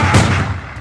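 Burst of gunfire from a liar shooting at Logan, Wolverine, a fast cluster of loud low booming shots packed into under a second, then a quick fade.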